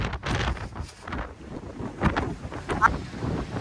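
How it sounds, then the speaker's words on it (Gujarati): Gusty wind on Girnar mountain near Junagadh rushes and thumps against the microphone, with faint voices and scattered noises in the background. "પવન તમે જોઈ જો, ખતરનાક પવન આવે"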